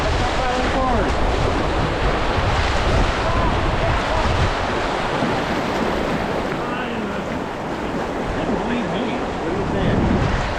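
Constant roar of rushing whitewater on Toronto's flooded Humber River surrounds a canoe as paddling begins, loud and close with wind buffeting the microphone and faint voices now and then in the mix.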